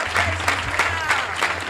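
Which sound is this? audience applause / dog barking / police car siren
audience applause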